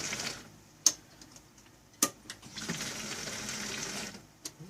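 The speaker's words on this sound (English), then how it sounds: "It's just on the 2 or 3 second prime on key on right now." After key-on, an electric fuel pump on an E85 fuel system primes quietly, giving a faint whirring hum with a few sharp clicks and ticks.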